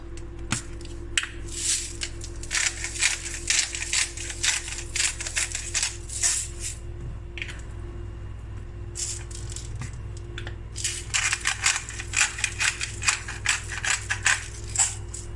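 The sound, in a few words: seasoning trout with salt and pepper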